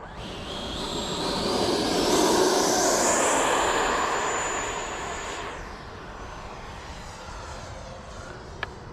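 FMS Avanti 90mm electric ducted fan RC sport jet flying past, its high whine swelling as it approaches, then fading with a slight falling pitch as it moves away.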